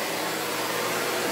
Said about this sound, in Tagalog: Vacuum cleaner ang ginagamit dito.